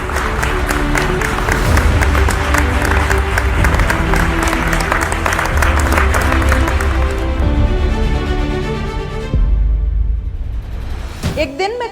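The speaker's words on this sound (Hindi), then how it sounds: "तालियों की गड़गड़ाहट कम न होने पाए।" Sustained audience applause at the Muslim Award for Excellence 2022 ceremony, a thick, continuous roar of many hands with music underneath, holding strong before thinning and dropping away near the end.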